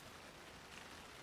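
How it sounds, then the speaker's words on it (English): Rain falls in the Alan Wake II video game: a faint, steady hiss of rainfall across the whole stretch with no distinct drops or other sounds. "And it's raining."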